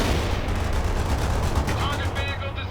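Heavy battlefield gunfire in the real-time strategy game World in Conflict, a dense rattle of machine-gun and rifle shots with deeper booms, loud and continuous while a voice shouts over it.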